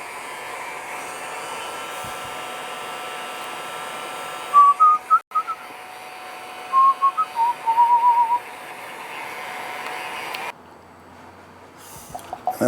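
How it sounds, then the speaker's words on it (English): Heat gun drying an epoxy egg cast, giving a loud steady blowing whir with a high whine that runs for about ten seconds and then cuts off, leaving quiet room tone. "give that a quick dry off with the old heat gun"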